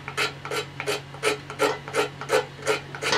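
A knife blade scrapes Vermont fatwood, a high-rosin resinous wood, in nine steady, evenly spaced rasping strokes, close up with no voices.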